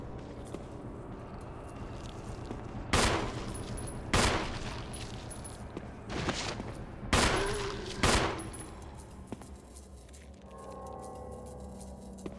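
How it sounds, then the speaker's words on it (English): Gunfire in the Resident Evil remake video game, five loud sharp shots spaced about a second apart over a low ambient game drone, with no talk over them. "Shoot it, shoot it please."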